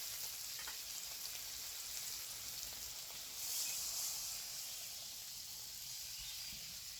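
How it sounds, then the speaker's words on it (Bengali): Water poured into a pan of frying bottle gourd, a continuous close hiss and sizzle with a brief swell partway through, steady and fairly quiet, no voices. "লাউটা কষানো হয়ে গেছে, এখন পরিমাণ মতন জল দিয়ে দেই।"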